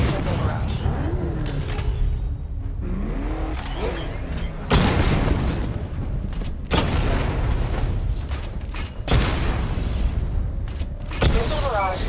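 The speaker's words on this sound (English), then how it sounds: "Destroy targets to charge up weapon energy and activate missile barrage." Batmobile weapons in Batman: Arkham Knight fire at targets and set off heavy explosions, with dense booms and mechanical clatter running throughout and louder bursts arriving every couple of seconds, mixed under a synthetic voice.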